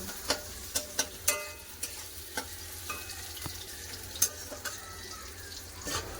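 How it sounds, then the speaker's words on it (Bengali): Sliced onions fry for beresta in a pan, a quiet steady sizzle broken by sharp crackles and pops scattered throughout. "আমি একটা চুলার পেঁয়াজ রাখবো পেঁয়াজটা লাল করে ভেজে নেবো"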